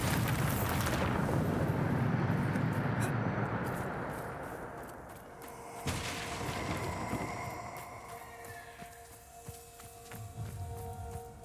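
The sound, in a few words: Bombarda blasting curse explosion in Hogwarts Legacy video game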